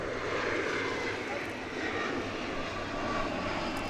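An Airbus A350-1000 airliner at DFW airport roars steadily at a distance, a broad continuous jet engine rush that holds level throughout, with faint voices in the background.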